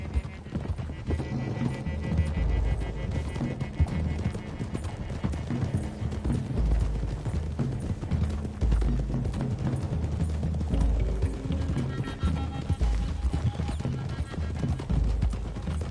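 Several horses gallop in a video game, hooves clip-clopping in a steady, dense rhythm with a whinny, running loud and continuous under rumbling game sound.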